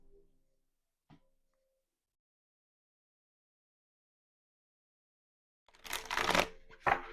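Tarot and oracle cards being shuffled close by, a short flurry of crisp riffling and flapping after a long near-silent pause with one faint tap early on, no talking.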